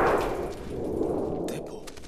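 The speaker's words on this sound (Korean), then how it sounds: "대포 소리." A cannon sound effect, a single deep boom that swells and rolls away into a fading rumble, ending in a few brief crackles, heard on its own.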